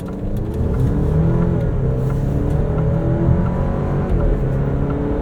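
The 2-liter turbo engine of a 2025 Alfa Romeo Stelvio Tributo Italiano AWD revs hard under acceleration, a loud, sustained engine drone with rising tones heard from inside the cabin, steady throughout.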